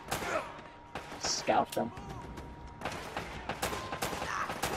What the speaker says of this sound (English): And I can hear a turret.